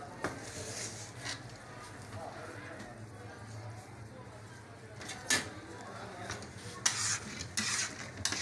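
Chicken pakoras frying in a pan, with a steady low sizzle, scattered scrapes and clinks as they are stirred, and people talking over the cooking.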